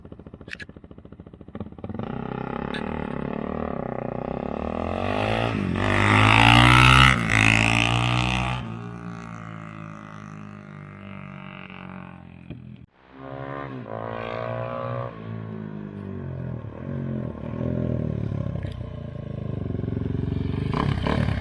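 A 2001 Suzuki DRZ400S motorcycle engine cranks after a stator repair, a loud, grinding, sputtering turnover that swells and fades across the clip, briefly cutting out midway before resuming, with no talk over it.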